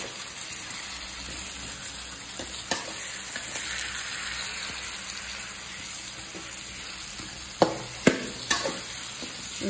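Potatoes stirred into a rohu fish curry masala frying in a pan, a steady close sizzle with scraping spoon strokes and a few sharper clanks near the end; no talking.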